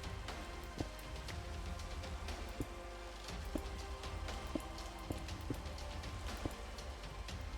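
Steady rain patters across a video game world, a soft continuous hiss with scattered drop clicks and faint, occasional hoof-like knocks in the background.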